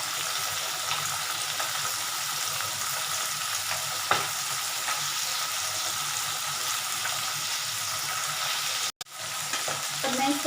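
Fish pieces for a mustard fish curry frying in hot oil, a loud continuous sizzle close up, marked by a few soft knocks as pieces are flipped to crisp on both sides and a brief cut near the end.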